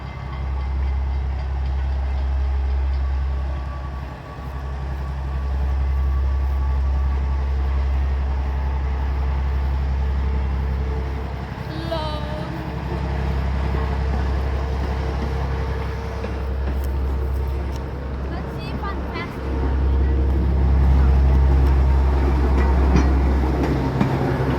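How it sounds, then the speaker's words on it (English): A slow heritage train at Greenfield Village rolls along with a deep, steady engine rumble, a few faint squeals and clanks over it, and the rumble swelling louder near the end, with no one talking. "Bro, this train is slow."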